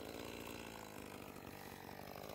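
Echo CS2511 chainsaw, a light top-handle saw used for thinning spruce, revving at high speed; a steady, dense engine whine fills the short stretch with no pauses.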